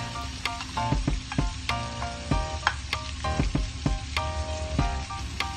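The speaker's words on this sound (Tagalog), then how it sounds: "We're going to saute this until it's slightly brown." Ginger and shallot sautéing in a pan for spicy mussel sisig, a steady close sizzle of frying with repeated sharp clicks and taps of a utensil stirring against the pan.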